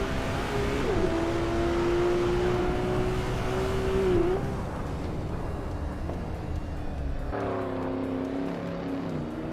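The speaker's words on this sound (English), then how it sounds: "Bao by Biolab is leading in a 2015 Porsche 911 GT3" A 2015 Porsche 911 GT3 racing in a video game, its engine droning at high revs with a sustained whine that drops as it shifts, then settles into a steady roar alongside other cars.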